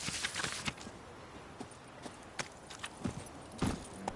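Roach the horse runs in a video game, a run of hoofbeats with uneven rhythm, fairly quiet against a soft background.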